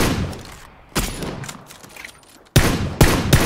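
Bursts of rapid gunfire in PUBG (Battlegrounds): a volley at the start, a shorter burst around one second, then heavy, loud repeated shots in the final second. The shots are close and punchy, with quiet gaps between bursts.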